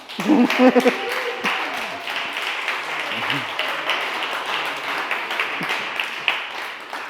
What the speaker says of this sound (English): I think we all need to give a big round of applause to Meg